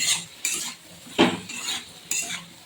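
Eggplant pieces fry with spices in a pan, stirred by a metal spatula. Quiet, rhythmic scraping sweeps come roughly every half second over a faint sizzle.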